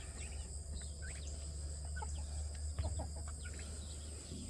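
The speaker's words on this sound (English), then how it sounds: "Poor little hen. Poor little hen. You'll find your place." A small hen among a flock of bigger hens and young roosters, soft clucks and brief chirpy calls scattered over a steady low hum, distant and quiet, with no talking.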